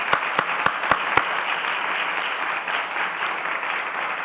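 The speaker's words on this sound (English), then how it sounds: "Let's give these awesome people a round of applause." At a cancer care conference session, an audience bursts into sustained applause, a few sharp near claps opening a thick, even wash of clapping that holds steady throughout.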